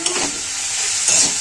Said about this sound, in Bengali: ব্যাস নেড়ে ছেড়ে সব একসাথে করে কিছুক্ষণ ধরে ফের ভাজতে থাকবো।